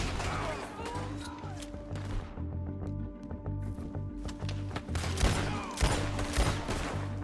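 Scattered gunshots in the western video game Red Dead Redemption 2, a few sharp cracks amid hoofbeats and busy ambient noise, with voices talking nearby.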